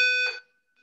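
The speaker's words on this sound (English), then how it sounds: "there goes the alarm" A short, loud electronic alarm sound effect blares with steady high tones, then cuts off abruptly and leaves near silence with a faint trailing beep.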